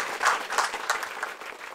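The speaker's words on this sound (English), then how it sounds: "It's a big award, and that deserves a round of applause for Shaikat Gupta, everyone." Audience applause at a photography award ceremony honouring a winning photo, a short burst of many hands clapping at moderate distance, fairly steady with a slight swell early on.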